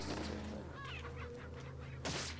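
A chicken in the Resident Evil 4 game lets out a few short, honking clucks over a constant low background hum, faint and brief.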